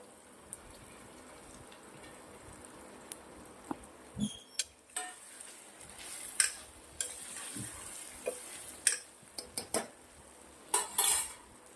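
Sprouted moth and moong beans being stirred in a pan for khichdi, with a steady sizzle under repeated scraping and clinking of a spoon against metal, irregular bursts that grow busier toward the end, no talk.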